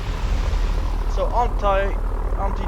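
Propeller warplanes droning through a World War II battle in the strategy game Total War: 1942, a steady loud engine roar that lasts the whole time, with a voice talking over it.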